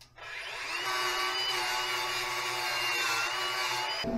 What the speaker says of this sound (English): this is going to alternate from wire wheeling and welding, wire wheeling and welding